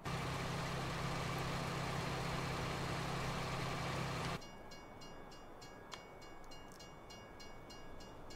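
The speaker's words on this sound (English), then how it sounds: "I hate when this train gets stuck on a track." A train in Farming Simulator 19 rumbles with a steady, loud engine drone that cuts off abruptly midway, leaving a quieter mechanical hum with faint rhythmic ticking and a single small knock.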